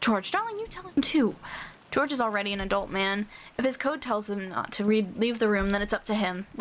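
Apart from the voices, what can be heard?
No distinct noise like a dog, phone or traffic.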